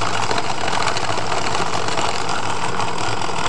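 A Lego CVT flywheel rig driven by an electric motor and gyroscope whirs steadily and loudly close by, a continuous mechanical hum with fine rattling texture throughout and no speech.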